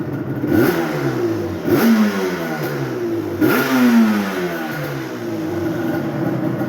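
A 2001 Yamaha Banshee engine revs loudly and close, with three sharp throttle blips that rise and fall over a rough, clattering idle, and no talk.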